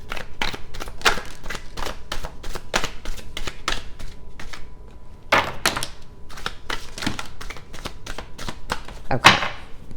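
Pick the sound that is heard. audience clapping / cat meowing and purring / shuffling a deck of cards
shuffling a deck of cards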